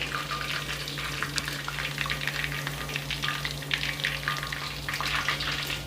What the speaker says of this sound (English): we bring the oil up to temperature and fry the second batch